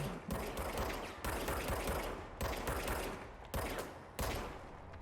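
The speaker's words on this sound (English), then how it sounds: "Now I have a gun. Ooh, I like that hip fire." Close, loud hip-fired gunshots from the service weapon in the game Control crackle in about six rapid bursts, each a dense rattle separated by brief gaps.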